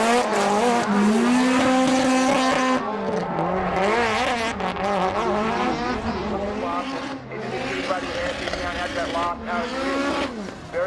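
Drift cars at the Australian Drifting GP roar continuously at high revs while tires squeal and skid, loud and close, with engine notes rising and falling; a voice talks faintly underneath.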